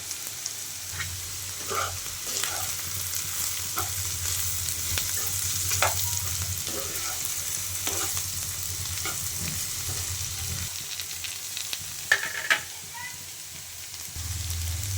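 Ivy gourd pieces fry in a pan with turmeric, making a steady, moderate sizzle with periodic scraping and stirring strokes and a couple of sharper knocks near the end.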